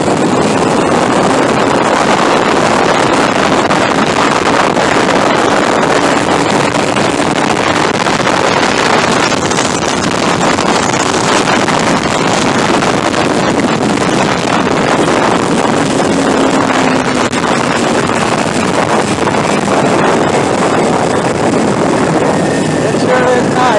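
Kawasaki Ninja 250R motorcycle engine revving hard and pulling up through the gears, a steady loud roar heavily buffeted by wind noise from riding at speed.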